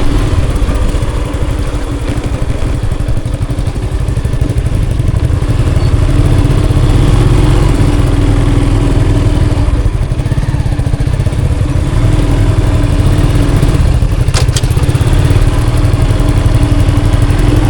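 A vehicle engine pulls uphill in second gear on a rural mountain road. A loud, close, continuous engine drone holds steady throughout, with no speech.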